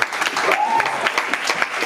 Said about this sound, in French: Vous pouvez juste applaudir, juste un peu.